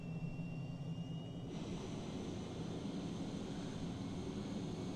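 An F-35 jet engine in Microsoft Flight Simulator 2020 roars steadily, with its pitch and intensity rising partway through as throttle is pushed forward; a continuous, fairly quiet whine and rumble with no talking.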